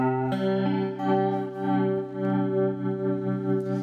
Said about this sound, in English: bring the chorus in here and have the tremolo and chorus of Warped Vinyl together